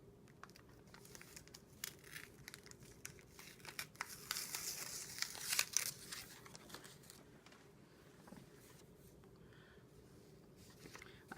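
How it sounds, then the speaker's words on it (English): Paper backing peeled and crinkled away from appliqué fabric for a flower-and-leaf quilt design, soft close-up rustling and tearing that rises to a louder burst midway, then fades to quiet handling. "I'm going to remove some of this paper."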